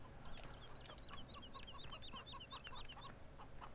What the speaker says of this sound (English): It's just fucking chickens